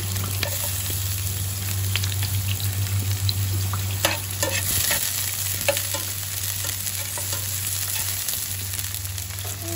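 Plenty of onions sautéing in a pan for kare-kare in an outdoor dirty kitchen, a steady close sizzle and frying hiss with occasional stirring clatter, continuous throughout with a low hum beneath and no speech.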